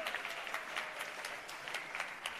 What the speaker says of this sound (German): nochmal einen grossen Applaus, meine Damen und Herren